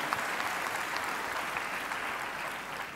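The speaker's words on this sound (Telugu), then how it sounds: "గట్టిగా చప్పట్లు కొట్టి ప్రభునామమును మహిమపరచండి." A church congregation claps loudly and continuously, a dense, steady wash of many hands that holds an even level from start to finish with no voices on top.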